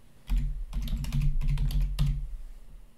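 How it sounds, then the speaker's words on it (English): Fingers typing a short burst on a computer keyboard at close range, a quick run of clicky keystrokes lasting about two seconds with no talking. "press search, and type in color ramp"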